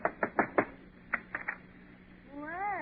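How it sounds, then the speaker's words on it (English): A radio sound effect of knocking on an apartment door in an old comedy broadcast: a quick group of four raps, then three more, crisp and close, followed by a voice starting to speak. "Go ahead, knock on the door."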